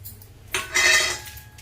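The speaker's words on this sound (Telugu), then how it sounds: "ఇప్పుడు ఆవాలు జీలకర్ర వేసుకుందాము." Mustard seeds and cumin tipped into hot oil in a pan, with a short burst of metallic clinking followed by a bright crackling sizzle that swells and then settles, close and fairly loud, with no talking.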